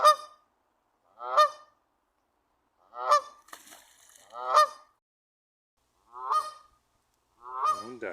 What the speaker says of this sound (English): got a lot of Canadian geese around here